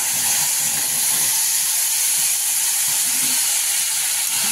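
Onion-tomato gravy hitting hot oil in a pan, giving a loud continuous hiss and sizzle that holds steady throughout with no talking.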